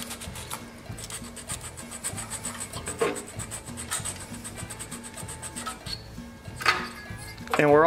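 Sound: sanding corroded engine coil ground on block

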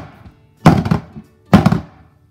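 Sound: banging bundt pan of pound cake batter to remove air bubbles

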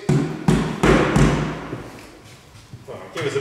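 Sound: banging on a prison cell door

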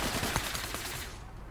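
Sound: ATAC Watchman gunfire in APB Reloaded video game

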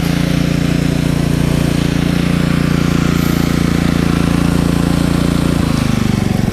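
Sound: KEMAGE KM5000io inverter generator engine idling at low revs

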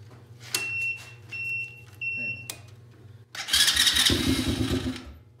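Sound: small motorbike engine being started

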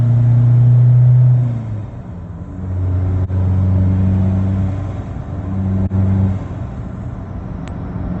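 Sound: Isuzu D-Max 1.9 pickup accelerating with turbo boost

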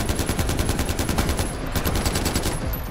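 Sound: gunfire in the video game Far Cry 4

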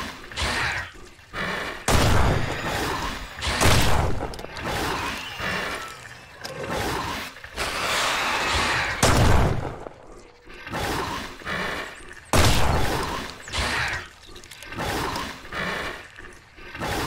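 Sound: gunshots fired in the video game Mist Survival

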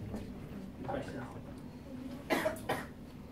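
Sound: throat clearing

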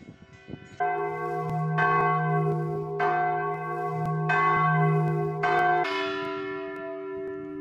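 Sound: church bells ringing

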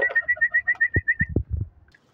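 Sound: pigeons

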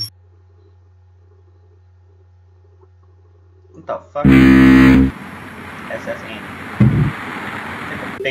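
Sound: boat horn

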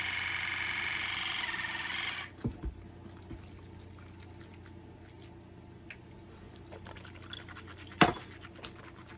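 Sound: water flosser spraying pressured water in mouth

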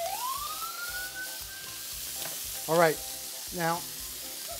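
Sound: bacon frying in pan

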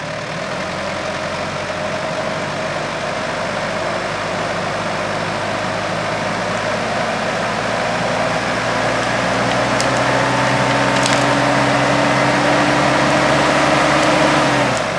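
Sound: four-wheel drive vehicle engine pulling on hazel withy until it breaks

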